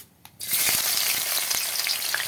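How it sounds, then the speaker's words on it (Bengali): Chopped onions dropped into hot oil in a wok burst into a loud, steady sizzle after a brief quiet start, with a few sharp crackles and pops throughout; no talking. "তেল গরম হয়ে গেছে, এবার দিয়ে দেব পেঁয়াজ কুচি,"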